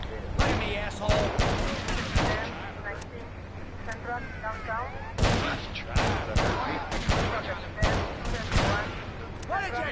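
Gunfire in GTA Vice City: a scatter of sharp shots and bursts at varying distance, loud and irregular, mixed in with shouting voices across the scene.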